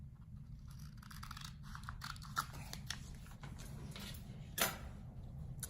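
Scissors cutting through material for a coat rack made from a glass cabinet door: a run of close, dry snips and scratchy clicks over a low background hum, with a sharper cut near the end.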